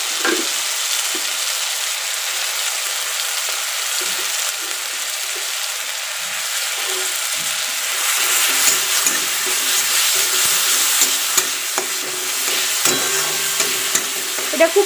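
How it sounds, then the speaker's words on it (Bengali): Onion, garlic and chili paste frying in a little oil while being stirred, a close, steady hissing sizzle with scraping strokes that grows slightly louder partway through. "এটা খুব ভালো করে নাড়াচাড়া করে ভেজে নেব"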